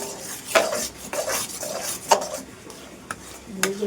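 Jaggery is stirred into a sweet cooking mixture in a metal pot, with scraping spoon strokes and clinks of utensil on pan at irregular intervals over a faint sizzle, close up.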